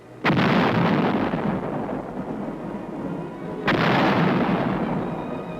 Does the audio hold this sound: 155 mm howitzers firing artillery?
yes